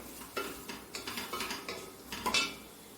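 Onions sautéed with salt in a pan for a soya chunks curry, heard as a series of scraping stir strokes of a utensil against the pan, each a short metallic scrape with quiet gaps, close and moderately loud with no talk.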